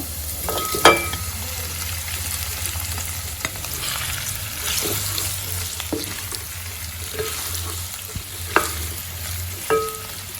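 Pork ribs sizzle steadily in a pan with garlic and onion, a loud close frying hiss punctuated by occasional sharp clicks and scrapes of stirring, no talking.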